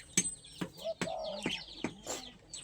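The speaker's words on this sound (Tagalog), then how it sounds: "Tapos itong mga parakit natin nagugutom na rin." Pet parakeets chirping and calling in short bursts, several sharp repeated calls with brief gaps, fairly close and moderately loud with no talking.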